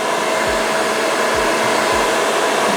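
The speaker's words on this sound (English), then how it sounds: "So I'm going to use my blow dryer on the cool heat setting" A blow dryer on its cool setting dries a wig with a loud, continuous airy roar, steady and close throughout, with a few faint low thumps underneath and no talking.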